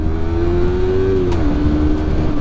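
Yamaha MT-03 motorcycle with its stock exhaust revving, a loud engine drone that climbs in pitch and then eases off as the throttle drops, heard close up without talk.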